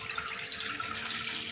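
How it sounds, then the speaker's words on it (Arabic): Milk poured from a container into a saucepan while making an eggless lemon cream, a steady, continuous liquid splashing and trickling at moderate level with no talking. "نفرغوا الحليب في الكاسرونه."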